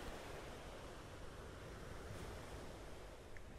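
Steady ocean surf washes continuously, a soft, even roar of waves with no voices over it.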